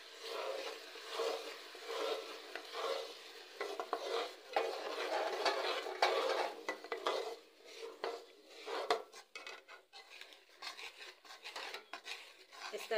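Besan barfi mixture of gram flour, milk and sugar syrup stirred in a pan, a continuous rasping scrape of spoon against metal with rhythmic strokes and occasional clinks, close and steady throughout.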